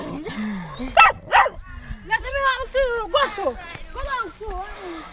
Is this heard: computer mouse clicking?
no